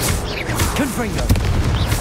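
Spell blasts and booming explosions from combat in the Hogwarts Legacy video game on PS4, a loud continuous stretch of magical impacts with a spoken shout over it.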